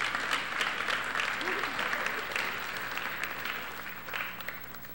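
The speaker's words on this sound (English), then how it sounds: "give them another round of applause" Applause rises from an audience at a high school scholarship awards ceremony, fairly distant and even, slowly tapering with a brief swell near the end and faint voices mixed in.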